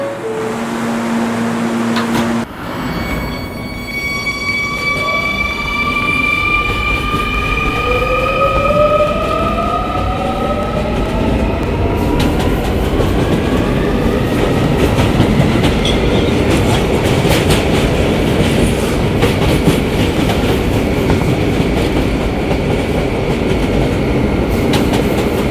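An R220 subway train on the 11 local line rolls along the rails with a loud, continuous rumble and rhythmic clickety-clack. Rising electric motor whines climb in pitch as it accelerates, heard close from inside the car with no talking.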